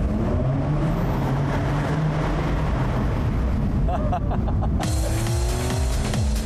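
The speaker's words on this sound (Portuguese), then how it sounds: "vamos passar por um túnel, dá até para escutar o barulho." A convertible car drives steadily through a tunnel with a loud, constant roar of engine and road noise, and the sound shifts in tone partway through.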